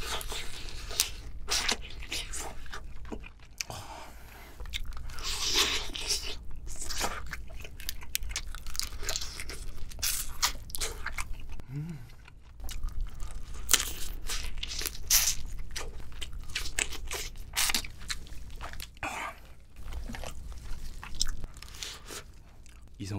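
Crunchy cracking and snipping of king crab shell being cut apart, repeated irregular crackles and tearing sounds close up, with quiet talk in between.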